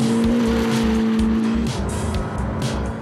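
A rear-wheel-drive McLaren GT supercar rated at 620 hp launches hard with wheelspin: a loud, close engine roar climbs in pitch, then shifts and surges on with a brief tyre squeal early in the run.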